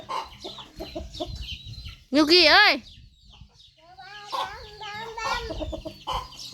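Chickens cluck repeatedly close by, with one loud wavering squawk partway through, while a person talks over them.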